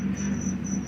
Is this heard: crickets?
yes